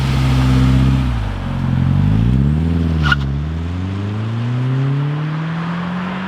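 A VW Golf MK4 drives along with a steady engine drone, rising and falling through gear changes as it accelerates, the low harmonics sweeping up and down before settling into a smooth climbing pitch.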